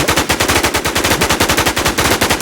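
Rapid automatic gunfire from the AfterLifeZ video game, a steady loud stream of evenly spaced shots with no pause across the whole stretch.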